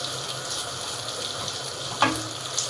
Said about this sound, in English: Then comes the sliced onions. Stir it for around 2 minutes